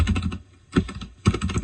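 Quick clusters of computer keyboard keystrokes, close and crisp, come in three short bursts separated by brief pauses, with no talking.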